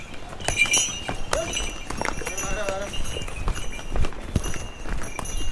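Horses and mules clip-clop along the mountain pilgrimage trail from Gaurikund to Kedarnath, with irregular hoof strikes nearby under steady talking.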